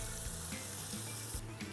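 Diced red bell pepper, onion and chorizo sizzle steadily in a pan while being sautéed for paella, a continuous fairly faint crackle with no voices.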